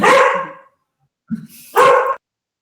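A female dog barks indoors close by, one loud bark, a soft low huff after a pause, then another loud bark, with silence between.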